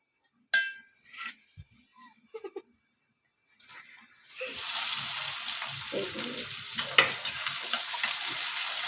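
Onions and green chillies hit a hot pan and start a loud, steady sizzle about halfway through, after a few quieter clatters and knocks at the start.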